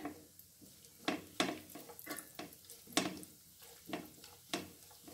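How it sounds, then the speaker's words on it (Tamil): Nuts stirred in melted ghee in a pan, a series of sharp spoon scrapes and taps over a faint frying hiss, close but fairly quiet, no talking. "கொஞ்சமாக நட்ஸ் சேர்த்துக்கிறேன். இதை வறுத்து எடுத்துடுறேன்."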